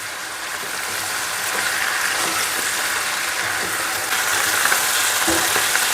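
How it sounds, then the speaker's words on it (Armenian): Onions fry in a pan with red pepper, giving a steady, dense sizzle that swells slightly partway through, with faint stirring scrapes and small pops, close and continuous, with no speech. "տապակվում է, այսպես պետք է ինքը կարմրի։"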